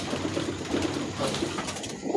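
Domestic pigeons cooing at a racing-pigeon tournament while the birds are being stamped, soft repeated throaty coos rising over a steady background murmur, close and fairly clear.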